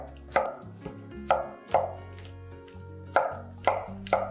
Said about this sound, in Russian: Нарежем грибы сначала ломтиками, а теперь вот так измельчим при помощи ножа.